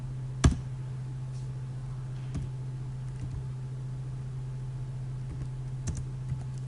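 Keys on a computer keyboard click faintly and sparsely, with a few sharper taps like the Enter key being struck, over a steady low electrical hum in a quiet room.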